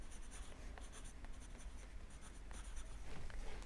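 Pen scratches across paper as color names are written onto a basic color wheel, a quiet, close, continuous scribbling with short strokes and small pauses, with no voices.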